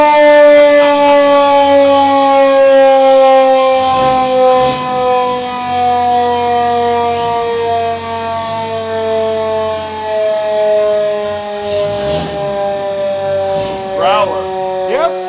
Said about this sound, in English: Hit the siren. It's a wee woo.